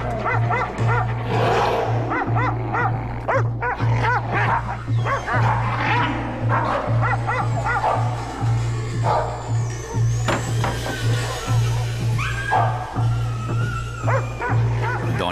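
Several dogs barking, yipping and whimpering in a restless mix of sharp calls and whines, close and fairly loud, over a steady rhythmic low pulsing hum.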